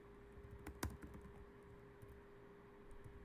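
Keystrokes tap on a computer keyboard while code is entered, a few sharp isolated clicks over a steady low hum, quiet and fairly close with no talking.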